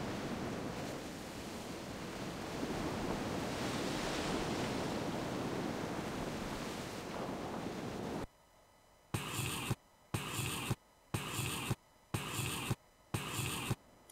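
Ocean waves from the video game Grandia II wash in as a soft, continuous surf roar for about eight seconds. After that, a quieter, choppy stretch of rhythmic bursts follows.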